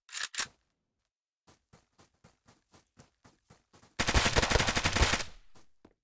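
Video game gunfire: an opening pair of loud shots, then a steady series of about a dozen evenly spaced single shots. A dense burst of rapid automatic fire follows and fades to a few scattered shots, with no talking.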